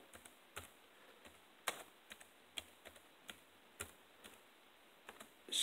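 Someone types a search query on a computer keyboard, a sparse run of crisp, close key clicks at an irregular pace, ending in a slightly louder keystroke.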